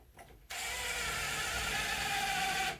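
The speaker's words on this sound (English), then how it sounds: "And the way to just double check too is when you're drilling it," A power drill bores through drywall into a wooden wall stud while hanging closet shelves, starting abruptly after a short pause and whirring steadily at close range for about two seconds before stopping.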